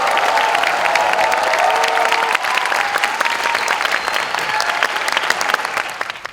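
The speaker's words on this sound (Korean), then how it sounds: "여러분 힘찬 박수와 환호로 맞아주시기 바랍니다" A loud university forum crowd at a presidential campaign talk concert greets a candidate with vigorous applause and cheering, sustained clapping with shouts and whoops layered on top.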